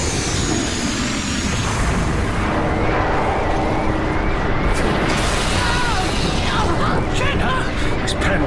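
Battlecruiser main particle cannons firing in a science fiction radio drama, a dense roaring blast that holds steady and loud, with sweeping electronic tones rising through it.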